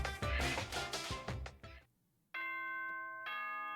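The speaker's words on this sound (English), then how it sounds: "The sound of the doorbell first went into my room." Doorbell ding-dong chime in the video game Danganronpa, a bright two-tone bell sounding twice after a burst of game music, clear and close.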